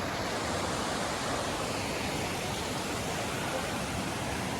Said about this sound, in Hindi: यहाँ से ही पानी आता है और यहाँ से वाटरफॉल की स्टार्टिंग है